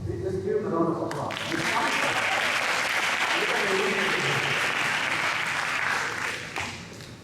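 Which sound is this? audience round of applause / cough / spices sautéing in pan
audience round of applause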